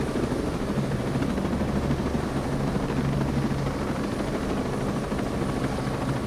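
A large aircraft in the video game Ghost Recon drones with a loud, continuous engine roar and rotor-like thrum, steady throughout with no talking.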